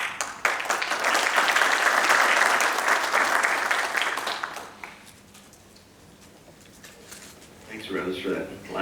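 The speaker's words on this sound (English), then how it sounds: "Thanks, Rose, for that loud applause" Loud audience applause fills a morning event hall for several seconds, then fades to quiet before a brief burst of renewed clapping near the end.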